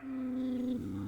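A trapped dog caught in a trench set gives a single sustained, tonal growl that breaks into a rougher, lower snarl, loud and close with no talk over it.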